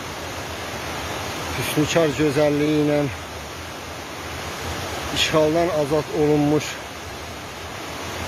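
Water from Ağ Bulaq spring in Minkənd village, Laçın, flows in a steady broadband rush throughout, while someone talks over it in two bursts.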